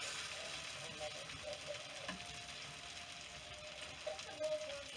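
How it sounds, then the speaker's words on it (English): A small steak fries in a pan at a cabin, a steady soft sizzle and crackle that runs throughout, fairly faint and unbroken. "It's still cooking pretty good. I just put my little steak in there."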